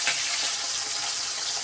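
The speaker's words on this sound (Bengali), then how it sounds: "মাছগুলি তো ভাজা বসিয়ে দিলাম এখন ভাজা হোক তারপর উল্টিয়ে দেব" Pabda fish frying in hot oil in a home kitchen, a steady, close hiss and crackle of sizzling that holds evenly throughout with no voices.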